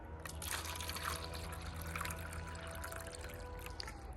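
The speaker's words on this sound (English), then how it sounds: "I'm going to pour water into 2 of my containers" A steady stream of water pours and splashes into a container, a continuous trickling rush with no talking.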